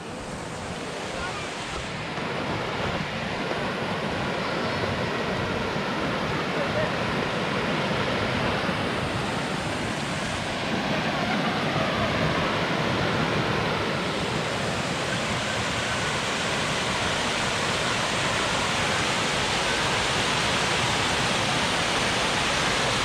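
Rushing water current pours steadily past the old watermills at Plivsko Jezero in Jajce, a broad, constant roar close by with no pauses.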